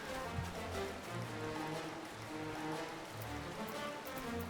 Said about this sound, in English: it's just immediately like raining when I exit G-Pose.